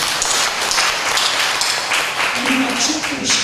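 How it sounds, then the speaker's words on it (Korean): Congregation applauding during a Sunday church service, a steady wash of clapping that fills the whole moment, with a few voices murmuring underneath. "박수 한번 칩시다."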